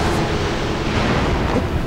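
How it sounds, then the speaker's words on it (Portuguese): Stormy wind and rain from the Shadow of the Colossus Remaster video game, during a fight with the colossus Malus: a steady, dense roar of gusting wind and rainfall, loud and continuous throughout with no talk. "Olha só a ventania, velho. chuva, vento, tudo pra deixar mais dramático ainda."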